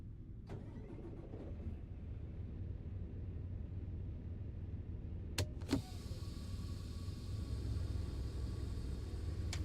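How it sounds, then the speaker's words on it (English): A Freightliner truck engine in American Truck Simulator starts up. Brief clicks and a sharp crank are followed by a steady low idle rumble that settles in and holds, moderately quiet, with no voices. "let's go ahead and get the truck fired up and let's do some trucking."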